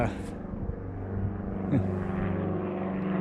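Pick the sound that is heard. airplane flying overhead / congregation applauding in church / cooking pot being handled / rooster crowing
airplane flying overhead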